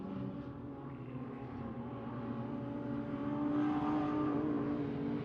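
Six-cylinder sprint cars race around Ellesmere Speedway, a steady layered engine drone from several cars at a distance, swelling slightly louder toward the end.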